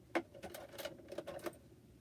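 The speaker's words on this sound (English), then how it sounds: "I'm going to go right back on top of this same stitching." A sewing machine runs back over existing stitching on a cloth face mask, a quiet, fast ticking hum with small clicks over about two seconds.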